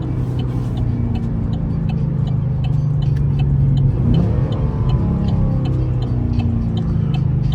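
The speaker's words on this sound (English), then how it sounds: "Oh, I know y'all hear them downshifts." A Chevy SS engine rumbles loud and close from inside the car as it downshifts, with a rising rev blip around the middle, then settles back into a steady deep drone and a faint repeating tick.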